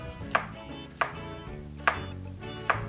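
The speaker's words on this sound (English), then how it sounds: "The next part is to cut your plantain into about half-inch slices." A kitchen knife cuts a plantain into half-inch slices on a board, giving four sharp, evenly spaced taps about a second apart, close and clear, with no voices.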